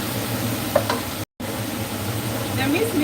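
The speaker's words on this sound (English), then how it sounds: "minced meat is cooking" Minced meat for spaghetti bolognese fries in a pan with a steady close sizzle and occasional stirring scrapes.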